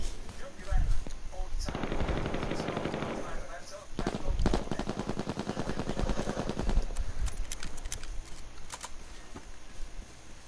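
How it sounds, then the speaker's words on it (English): Rapid bursts of automatic gunfire crackle in the H1Z1 battle royale game, dense rattling volleys that pause briefly and resume, with players talking over the shooting. "They're shooting at us."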